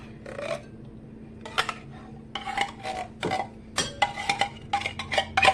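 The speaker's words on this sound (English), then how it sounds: "get all that cream of mushroom out of your pot, your little can" Spoon scraping canned cream of mushroom from a small tin into a cooking pot with cooked, seasoned vegetables, a close, irregular series of metallic clinks and scrapes that quicken toward the end, with no talking.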